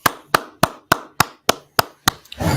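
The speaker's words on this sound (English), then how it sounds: "let's clap it up for class" A class clapping in unison: eight sharp, evenly spaced claps at a quick steady beat, loud and close, followed by a swelling wash of crowd noise.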